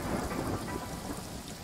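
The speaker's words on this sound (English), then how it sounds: "It does rain even in paradise from time to time" Rain pours down with low thunder rumbling in the Paradise Killer video game. The downpour is a continuous, full hiss and the rumble rolls beneath it, with no voices.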